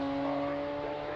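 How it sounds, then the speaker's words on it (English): Radical race cars pulling out of pit lane at Donington, a short burst of engine whine and rising revs heard at a distance, fairly faint. "That wave of cars is released."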